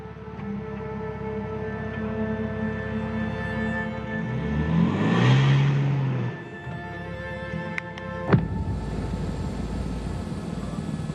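A Dakar Rally vehicle at the 2024 event strains over a sand dune in the desert, its engine droning steadily and swelling louder midway as it labours past, followed by a sharp thump near the end.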